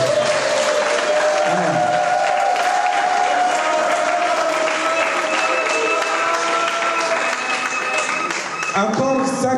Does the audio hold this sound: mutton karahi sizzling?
no